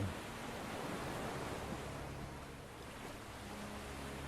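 Steady sea surf with a continuous broad wash of breaking waves, fairly faint and even throughout, with no voices.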